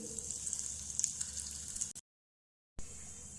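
Mustard seeds, urad dal and asafoetida fry in hot oil for a South Indian tempering, giving a steady close sizzle that cuts out briefly to silence and then resumes.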